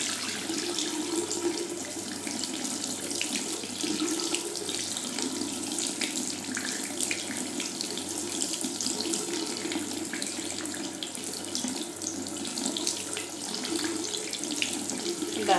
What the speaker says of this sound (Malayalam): വെള്ളം അങ്ങോട്ട് സ്പ്രേ ചെയ്ത്